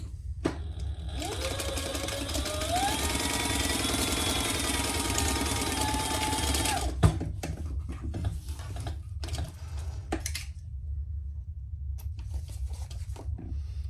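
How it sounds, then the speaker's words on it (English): A sewing machine top-stitches a crossbody bag. Its motor whirs up to speed and runs steadily for about six seconds, then stops, leaving faint handling noises and low room hum. "Okay, now we're going to just top stitch that."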